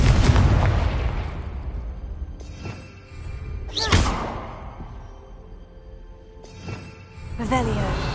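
Explosion spells from Hogwarts Legacy on PS5, several sharp booming bursts with crackling tails spread across the stretch, mixed with game effects and background sound.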